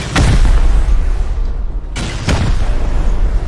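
Explosives detonate during a raid in the video game Rust, producing two heavy booming blasts about two seconds apart, each loud and close with a rumbling tail over a steady background roar.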